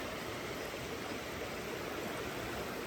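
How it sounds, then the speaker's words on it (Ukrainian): River rapids swollen by heavy rain give a steady, dense rushing roar that fills the whole stretch without pause. The water sounds fairly close, with no voices over it. "Пороги шумлять."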